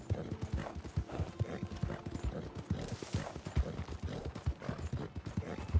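Horse hooves galloping in Red Dead Redemption 2, a steady rapid clip-clop rhythm close and loud throughout, with a brief whinny-like sound mixed in over game music and ambience.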